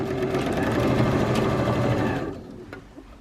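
A domestic sewing machine runs steadily while stitching a seam on a minky fabric blanket. The motor hums loudly and evenly at close range, then stops, leaving quiet handling noises.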